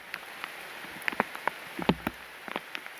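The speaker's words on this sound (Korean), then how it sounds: "비가 계속 많이 오네요." Heavy rain falling during bass fishing, with scattered droplet ticks and taps over a soft, steady wash, some hits close by and fairly sharp.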